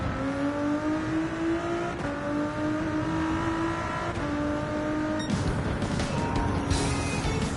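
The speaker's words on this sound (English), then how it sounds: "I need to just hit second gear and floor it out of there" A race car in Gran Turismo 7 on the Daytona circuit revs hard under full throttle, its engine tone climbing steadily and dropping at each gear change. It sounds loud and continuous, with no voices.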